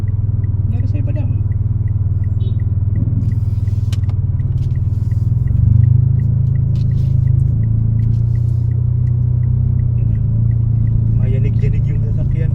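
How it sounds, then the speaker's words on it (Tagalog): A car rumbles with a steady, loud low drone while driving, its cabin shaking, and people talk over the noise throughout. "Mayanig-yanig yung sasakyan ko."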